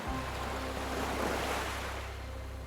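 Ocean waves and surf wash steadily as a sound effect beneath a children's read-aloud story about the sea, a continuous broad roar with wind, heard alone and without speech.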